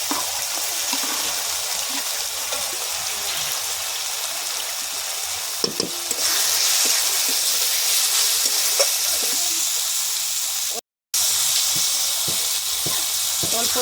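Ginger and garlic sizzle steadily in hot oil for a fish curry with eggplant, a loud continuous close frying hiss with occasional clinks of stirring and a brief dropout.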